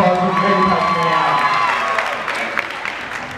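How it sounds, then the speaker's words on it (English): An audience at an honoring ceremony at Linden High School applauds and cheers as Faye walks out, loud crowd noise that gradually thins and fades. "Round of applause for Faye coming"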